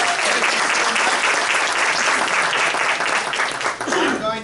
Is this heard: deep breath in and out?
no